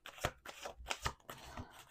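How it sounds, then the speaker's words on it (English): Tarot cards shuffled by hand in quick riffling bursts, soft and close with short pauses between, no talking. "Let's do two more shuffles."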